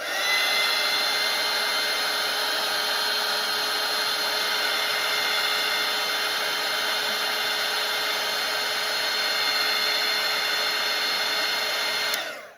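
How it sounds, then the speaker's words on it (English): A hair dryer blows on a watercolour painting of a Santa face to dry the paint. Its loud, steady whir runs close and unbroken for about twelve seconds, then cuts off abruptly. "So I'm going to grab my dryer and I'm going to dry this so I can move on to the next part of the nose."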